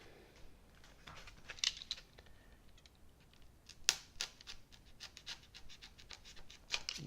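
A hobby knife scores and slices through foam on an RC flying wing build, giving a quiet, close run of small scratchy cuts with a few sharper clicks and snaps scattered through.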